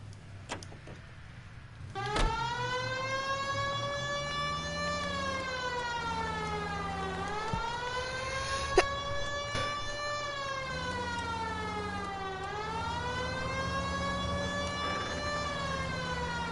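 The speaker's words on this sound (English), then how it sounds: "Put the siren on for this one, gotta be there quick." Police car siren in the game L.A. Noire, a loud wailing tone that rises and falls in slow sweeps, starting after a short quiet moment and continuing steadily.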